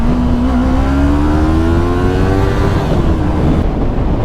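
A Yamaha YZF-R3 motorcycle engine pulls hard under acceleration, its loud, close, steady drone climbing smoothly in pitch with no talking over it.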